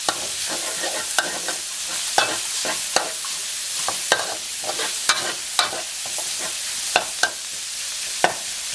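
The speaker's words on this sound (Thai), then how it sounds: "ผัดไปเรื่อยๆนะครับ ไม่ต้องรีบ" Minced pork stir-fries in a hot pan with a steady sizzle, punctuated by regular sharp scrapes and taps of the spatula roughly every half second, close and continuous with no talking.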